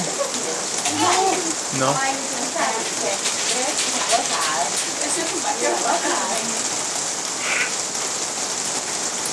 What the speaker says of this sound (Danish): Nej, det regner jo. Nej, det er også vildt ærgerligt, at det skal regne så meget nu.